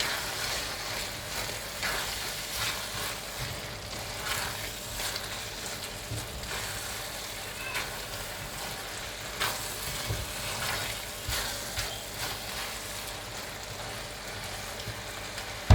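Lamb mince and chickpea keema curry sizzles steadily in a pan while fresh coriander is stirred through, with a continuous close frying crackle and occasional scrapes from the spoon.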